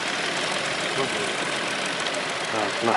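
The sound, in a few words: Kia Optima 2018 engine running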